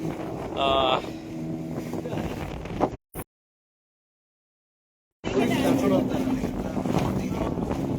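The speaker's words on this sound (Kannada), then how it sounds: "ಹಾಗಾಗಿ 3 ದೋಣಿಲಿ ಬರ್ತಾ ಇರೋದು" Boat ride to Dolphin Point in Goa: a steady engine and wind rumble runs loud and close with people talking over it, cuts to silence for about two seconds, then returns just as loud.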